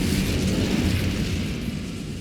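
In the Hogwarts Legacy video game, the Incendio fire spell is cast with a loud, dense roaring burst of flame that holds steady and then tapers slightly, with no voices over it.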